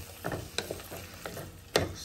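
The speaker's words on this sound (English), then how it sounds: "So increase the flame to high. In high flame, cook it so the tomato becomes soft" Tomatoes cooking in a pan over a high flame for a Chettinad chicken curry, giving a steady close sizzle broken by a few sharper stirring scrapes and clatters.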